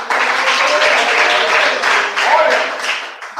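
A congregation at a church service claps in loud, uneven waves that swell and dip over a few seconds, with voices mixed into the applause.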